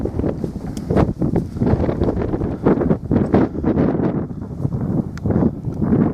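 Strong wind buffets the microphone on open moorland at Rough Tor, Bodmin Moor in Cornwall, a steady roaring rush with gusty surges throughout and no voices.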